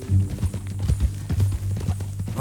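Horse hooves clip-clop in Red Dead Redemption 2 as a rider moves along on a new, mean-looking horse, a steady close rhythm of hoofbeats over a low rumbling game background with no talk.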